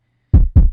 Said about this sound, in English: especially for the kick, I used a gritty sample from Cymatics Freebie